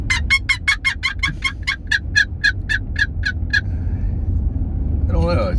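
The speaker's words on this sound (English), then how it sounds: "It's so cool to hear turkeys talk to each other." Turkeys gobbling: a fast rattling burst of a dozen or more sharp calls that slows and fades, then another brief call at the end, over a low rumble of background noise.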